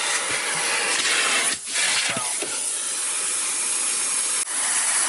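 A central vacuum hose sucks at a car's interior around the seats and manual shift boot, giving a loud steady airy hiss with brief dips as the nozzle shifts position.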